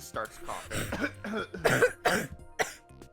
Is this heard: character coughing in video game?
yes